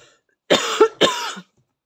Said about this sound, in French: je toussais pas jusqu'à maintenant, mais là je tousse